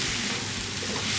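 Egg fried rice frying in a hot pan, a dense, continuous sizzle with a crackling hiss that holds steady and close throughout, no voices present.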